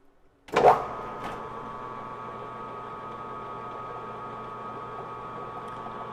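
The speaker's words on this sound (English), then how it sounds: "let's go 1/2 millimeter on the first cut and see what it looks like" A machine tool starts a half-millimetre first cut, a sharp onset followed by a steady, close, even hum with a faint tonal whine, alone without talk.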